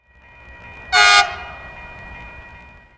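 A diesel locomotive horn sounds one short, loud blast of about a quarter second, standing out clearly above a steady low rumble.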